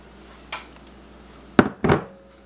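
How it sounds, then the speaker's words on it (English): Green onion and broccoli stirred in a frying pan: a light tap, then two close scraping clunks of a utensil against the pan over a quiet kitchen background. "I want to give this a little mix just to get everything combined together"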